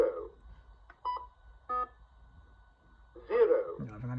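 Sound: low-battery warning beeps from a device

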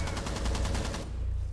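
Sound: gunfire from video game Rainbow Six Siege

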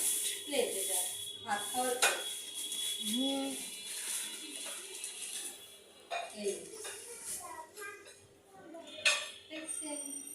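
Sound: newly bought plates being handled

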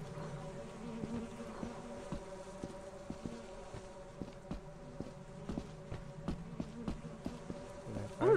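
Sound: beehive bees buzzing in video game Lethal Company

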